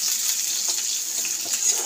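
Onion sizzles in hot oil in a pan while a soybean curry is cooked, giving a steady, even crackling hiss at close range.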